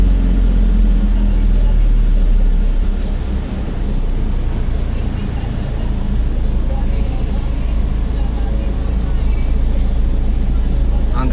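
Morning rush-hour traffic on EDSA with cars and buses, a loud, continuous low engine rumble and road noise that holds steady throughout without pause.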